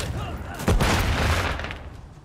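A thrown stun grenade bursts with a sharp bang in Call of Duty, followed by a rolling, hissing blast tail that fades over a second or two, with gunfire-like crackle and a voice mixed in.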